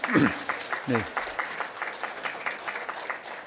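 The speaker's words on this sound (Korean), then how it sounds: "우리 박수로 환영하겠습니다" A church congregation at a Sunday worship service claps to welcome a missionary, a steady patter of hands running under a voice, which speaks briefly at the start and then fades back behind the clapping.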